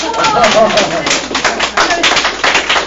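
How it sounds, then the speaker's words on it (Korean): An audience at a book forum applauding the MC, a loud close patter of many hands clapping continuously for a few seconds, with a voice speaking over it. "우리 MC님께 좀 박수 한번 주세요."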